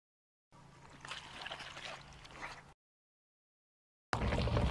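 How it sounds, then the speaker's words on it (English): Water pouring and trickling as it fills and overflows the top of an IBC tank on a homestead, a steady splashing flow for about two seconds, then a gap and a louder rush of water near the end. "We're full and it's overflowing"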